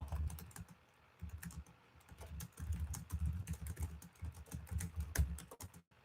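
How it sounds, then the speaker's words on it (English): Fingers type on a computer keyboard, quick irregular clusters of soft key clicks with short pauses between bursts, close and quiet. "I'm just typing something in here"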